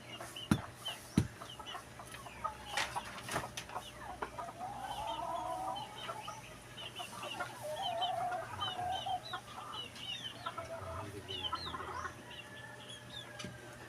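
Chickens cluck repeatedly around a farmyard, with scattered bird calls and a steady low hum of outdoor background noise.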